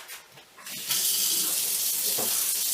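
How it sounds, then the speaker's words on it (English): A kitchen tap turns on and runs steadily into a sink for hand washing before cooking, a close, continuous hiss of flowing water after a brief quieter start. "Let's start by washing our hands."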